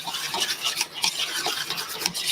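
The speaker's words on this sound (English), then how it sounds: "And I'm just going to whisk it around" A fork whisks a mixture in a bowl while cooking, giving a steady, close scraping and rasping rhythm with quick repeated strokes and no talk over it.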